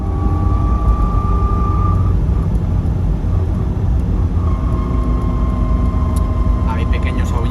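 A car fresh from the workshop cruises in third gear at about 30 km/h on light throttle, a close, steady engine drone with a faint whine from the differentials held throughout.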